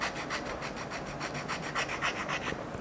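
A scratch-built model part is sanded by hand with a needle file, a series of quiet, rhythmic rasping strokes repeating at an even pace, close up and alone.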